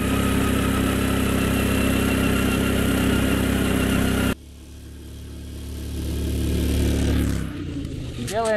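A homemade snowmobile engine with its variator covered runs steadily at a loud, close idle, drops off briefly, then swells again as revs rise; no talk is heard over it.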